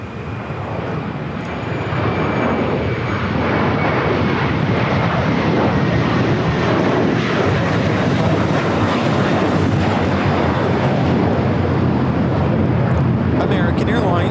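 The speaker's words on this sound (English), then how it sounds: "American Airlines 1595 taking off to Chicago on the A321" An American Airlines Airbus A321 takes off at LAX, its engines building into a loud, broad roar that swells and holds for many seconds, with wind buffeting the microphone.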